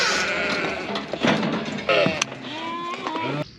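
Sheep bleating close by during lamb training with a herding dog, several separate wavering calls.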